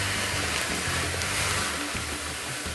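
Liquid pours during a Pacific ale brew day in a shed as the mash bag is pulled up, a loud continuous gushing splash with no voices over it.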